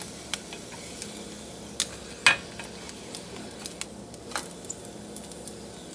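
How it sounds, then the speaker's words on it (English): Bologna sizzles gently in a frying pan over low heat, a steady quiet hiss broken by scattered utensil clicks and one sharper clink partway through. "Gotta have this thing sizzled up from the bologna."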